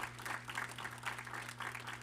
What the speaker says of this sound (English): Stand up. Clap it up.